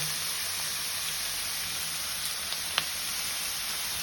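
Raw vegetables frying in hot oil in a pan for Chinese-style noodles, a steady close sizzle with a few faint ticks and pops.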